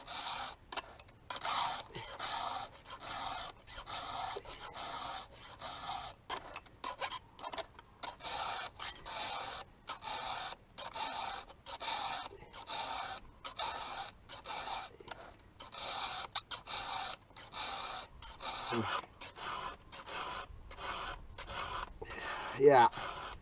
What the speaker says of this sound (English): We'll get through this filing and that'll probably be it.